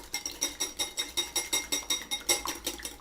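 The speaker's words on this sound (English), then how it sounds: "Whisk that up." A whisk beats an egg in a mixing bowl for almond muffin batter, producing a quick, steady run of bright clinking strokes against the bowl, close and alone with no talk.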